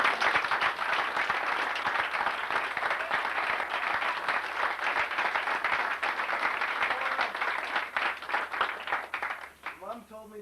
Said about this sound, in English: everybody just give a round of applause for Gary and Wayne